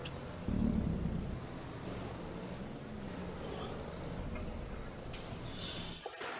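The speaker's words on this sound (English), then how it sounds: "And we're just gonna go ahead and leave the truck running." A parked truck idles by the roadside, its engine a low, steady rumble heard from close by, with a sharp burst of air-brake hiss near the end and no talking.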